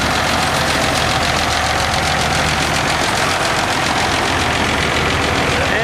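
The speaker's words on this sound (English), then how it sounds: "Beautiful tractor." A 656 row crop Hydro gold demo tractor at a Red Power show runs loud and close, its engine holding a steady, rough, rumbling idle for the whole stretch.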